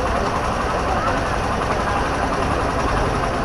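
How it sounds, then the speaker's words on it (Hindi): A Hero Super Splendor BS6 motorcycle engine idles steadily at about 1200 RPM, a constant close rumble with voices over it. "इंजन का जो स्पीड है ये 1200 के करीब में है अभी"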